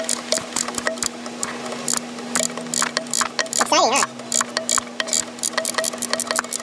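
Rapid ratchet clicking as a bolt holding the dipstick tube is loosened from the intake manifold of a 2.4 Turbo Cruiser engine, steady close clicks in bursts, with a brief squeal midway.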